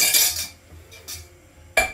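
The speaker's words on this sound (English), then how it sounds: "Let's stir in the sauce." A spoon clinks and scrapes in a pot while sauce is stirred into a beef stew with beans, with one knock at the start and another at the end, separated by quiet rustling.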